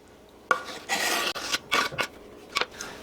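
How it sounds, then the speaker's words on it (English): Smoked slaw with onions, carrots and peppers tossed into coleslaw dressing, heard as several close bursts of wet rustling and scraping in a bowl with short pauses between them. "now we're going to throw in our onions and carrots and peppers"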